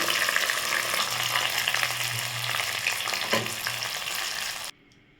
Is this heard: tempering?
yes